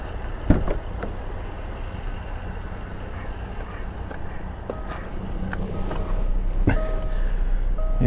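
A Jaguar F-Type's cabin warning chimes sound as a driver gets into the car: a soft thud early on, then a few short electronic bongs later, under low interior rumble.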